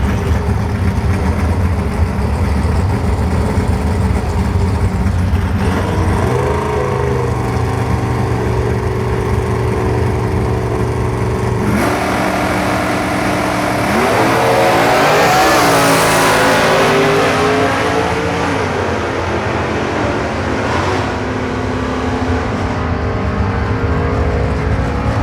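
A '66 Chevelle and a '66 Chevy II Nova drag race at Beech Bend in a stock/super stock event, loud V8 engines idling and then roaring as they launch and pull away with climbing revs.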